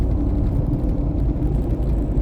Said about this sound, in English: more traffic on the road this morning.